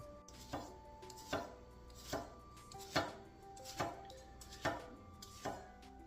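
A cheap, not-very-sharp knife on its first use chops with a forward rocking motion, giving eight evenly spaced, crisp chops about a second apart, close and moderately loud with no talking.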